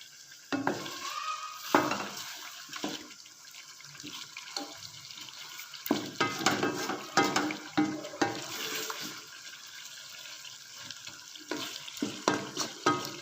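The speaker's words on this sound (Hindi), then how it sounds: "मिक्स कर लेते हैं और मज़ीद हम इसको भूनते हैं।" Chicken korma masala being stirred and fried in a pot, with bursts of scraping and sizzling coming in irregular waves over a steady low hiss, no talking.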